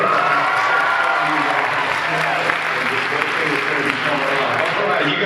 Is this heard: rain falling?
no